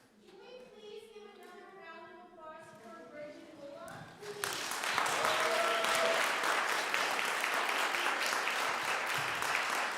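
A voice is heard first, then warm, full applause breaks out at a children's holiday concert, many hands clapping steadily and loudly to the end.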